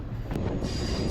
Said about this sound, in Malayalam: പതിമൂന്ന് കണ്ണറപ്പാലത്തിൻ്റെ മുകളിലൂടെ നമ്മുടെ ട്രെയിൻ ഇങ്ങനെ പോകുന്നതാണ്